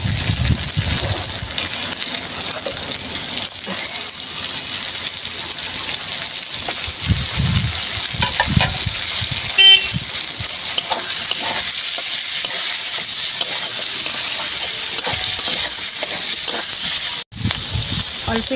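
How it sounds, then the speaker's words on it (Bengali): Chopped onion and green chili sizzle steadily in a hot pan, a loud continuous frying hiss with occasional stirring scrapes and a faint voice in the background. "ভালো করে আমি পেঁয়াজটা ভাজবো।"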